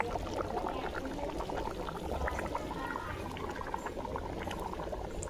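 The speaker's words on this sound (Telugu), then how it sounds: "వాటర్ అయితే బాయిల్ అయిపోయింది" Water boiling in a pot on a wood-fire stove: a faint, steady bubbling and sputtering, with small irregular pops over a low continuous rumble.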